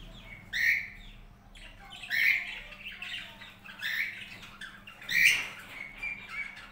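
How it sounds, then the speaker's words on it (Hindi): Ducks and ducklings calling back and forth in short chirps and squawks, several bursts spread across the moment, fairly close and moderate in level over a low steady hum. "डायमंड इंडियाना आगे बैठी हुई है, बच्चे पीछे हैं, ये गुफ्तगू कर रहे हैं बहुत ज़्यादा आपस में।"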